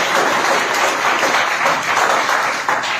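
Church congregation applauding during a Hindi-language Christian sermon, a steady dense wash of hand clapping sustained evenly for the full stretch with no voice on top.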